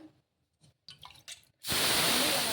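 A few soft clicks and taps, then a sudden loud hiss as water is poured onto a hot dosa pan over a low flame, sizzling steadily to the end.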